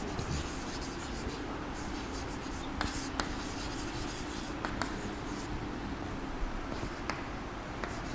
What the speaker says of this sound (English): I am just writing them on the board itself.